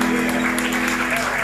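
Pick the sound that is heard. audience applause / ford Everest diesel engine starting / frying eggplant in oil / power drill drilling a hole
audience applause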